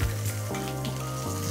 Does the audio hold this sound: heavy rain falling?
no